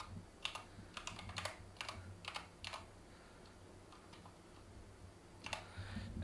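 Computer keyboard typing in short bursts of quick key clicks with gaps between, close and fairly quiet over a low steady hum, no talking.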